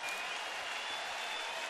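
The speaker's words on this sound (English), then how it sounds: "Crowd getting into it here, trying to help Kazmir through the inning." Baseball crowd at a Tigers–Indians game in Cleveland cheering and clapping steadily as pitcher Kazmir works with the bases loaded and two out; a dense, continuous wash of applause throughout, with no clear voices.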